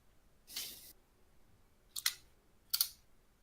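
A computer mouse clicks three times, sharp and close, the first a slightly longer burst followed by a paired double click, with near silence between.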